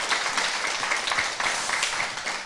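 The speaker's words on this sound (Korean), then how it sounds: "박수 한번 주시기 바랍니다." A short burst of steady, dense clapping from an audience welcoming a poet to a talk event, close and continuous with no voices over it.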